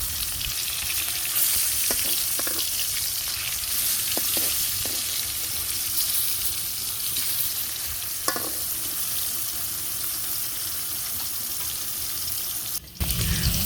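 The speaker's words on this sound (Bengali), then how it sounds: "আমার এক পাশ মাছ ভাজা হয়ে গেছে, তো আর এক পাশ উল্টে দিতেছি।" Hilsa fish frying in oil in a pan, a continuous soft sizzle as pieces are turned over, with light scraping and clinks of a utensil, a sharp clatter near the end, no talking.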